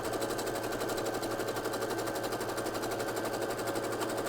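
A sewing machine fitted with a cording foot runs a zigzag stitch, a fast, steady mechanical chatter of evenly repeating needle strokes, close and continuous with no talk.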